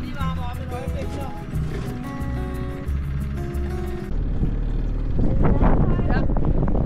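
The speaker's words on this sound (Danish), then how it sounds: "Mens motoren lige varmer op et øjeblik" A boat engine idles while warming up on the water off Christiansø, a low steady rumble that grows rougher and louder partway through, with music and people talking over it.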